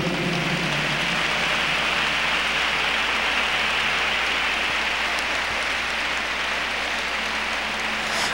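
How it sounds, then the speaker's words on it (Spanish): Congregation applauding at a church service, dense sustained clapping that fills the whole stretch, steady and loud with no pause. "Dele un aplauso al Señor."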